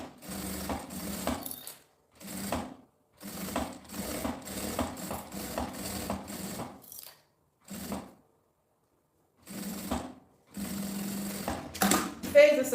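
A sewing machine stitching a seam on fabric runs in short, rapid mechanical bursts separated by pauses, close and fairly quiet, with someone speaking between the runs.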